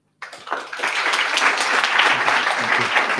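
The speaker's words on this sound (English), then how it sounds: "big applause to all of the startups that are participating here tonight" Applause from an audience at a startup pitch event starts abruptly and builds into sustained, even clapping that continues loudly to the end.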